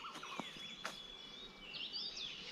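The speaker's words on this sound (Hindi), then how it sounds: "आसपास में जो आपको पीछे बैकग्राउंड में बहुत सारी चिड़िया सुनाई दे रही हैं" Bird calls, chirps and whistled notes in a Himachal forest, India, some sharp and close, others trailing off, over a quiet outdoor background with no talking.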